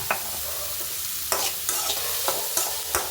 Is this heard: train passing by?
no